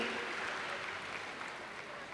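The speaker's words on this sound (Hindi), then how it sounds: "और जोरदार उनकी ताली से उनका सम्मान करेंगे और थैंक्स करेंगे" Steady, dense applause from an audience at an honour ceremony follows a performance, filling the hall evenly at moderate volume for about two seconds with no break.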